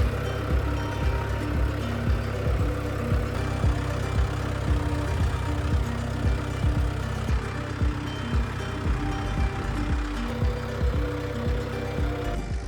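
A tractor engine runs in a farm field, a steady low rumble with a rhythmic chugging beat, moderately close and continuous throughout, with no voices.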